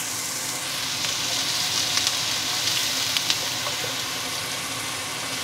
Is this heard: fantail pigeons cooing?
no